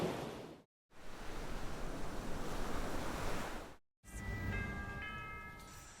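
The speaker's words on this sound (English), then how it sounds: "towering above even more impressive waves that crash onto 90 miles of coastline." Ocean waves crash onto a long coastline beneath lush mountains, a loud, broad surf roar broken by two brief cuts, with a bright metallic ringing tone over the final stretch.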